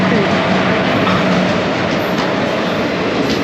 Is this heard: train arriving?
yes